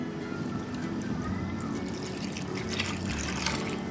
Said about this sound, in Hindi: इसमें हम अब डालेंगे 1/2 लीटर दूध